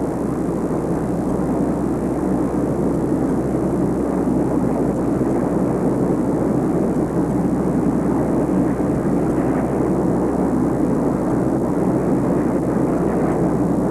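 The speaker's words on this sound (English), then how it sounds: "By driving 8-blade counter-rotating propellers with their giant blades set at extremely coarse angles, this aircraft is able to combine the fuel economy of propeller drive with the speed of a jet" Tupolev Bear bomber driven by 8-blade counter-rotating propellers, a loud, continuous droning roar with a steady low hum that holds unchanged throughout.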